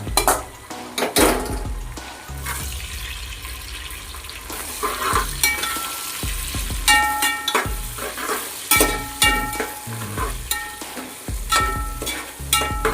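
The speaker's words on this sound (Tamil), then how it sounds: "வெண்டைக்காவை ஆட் பண்ணிக்கோங்க" Okra frying in a pan for mor kuzhambu, a Tamil buttermilk curry, with loud, continuous sizzling and repeated scraping and clinking as a spoon stirs the pieces against the metal.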